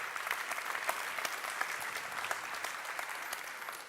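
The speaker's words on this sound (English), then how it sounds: "Let's give that a big round of applause." A pitch competition audience at a Dubai regional final bursts into steady, dense applause that carries on evenly for several seconds, moderately distant and without talk.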